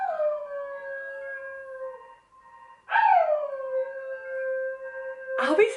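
A dog named Albie howls in long, wavering drawn-out notes, close and loud, with a pause and then another rising howl, ending in a sharper yelping cry.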